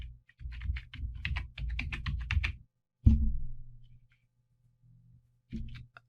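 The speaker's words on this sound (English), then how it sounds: "type in the name of the plugin that you're looking for" Quick bursts of typing on a computer keyboard while entering a plugin name into a WordPress search box, followed by a single heavier key thump and one last short cluster of clicks, close and clear with no talking.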